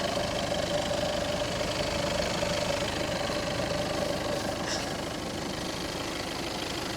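A 2017 Seat Leon FR 2.0 TDI diesel engine idles steadily with a low, even rumble and faint rattling knock, close by and unchanging.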